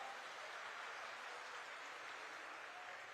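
Steady applause from an audience at a school cultural festival ceremony, a distant, uniform wash of clapping that holds evenly with no voices rising above it.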